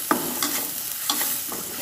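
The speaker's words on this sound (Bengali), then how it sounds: "এখন পেঁয়াজটাকে একটু ব্রাউনি করে ভেজে" Onions and green chillies fry in a pan, with a soft steady sizzle broken by several quick scraping stirs of a spatula.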